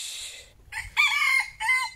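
A bantam rooster outdoors on grass crows loudly and nearby, one full strained cock-a-doodle-doo broken into rising and falling segments after a short clucking start.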